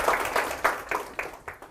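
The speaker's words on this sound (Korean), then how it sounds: "박수" A small group claps sparsely after a study talk ends, about seven separate, fairly quiet claps in an uneven rhythm, close by, with no talking over them.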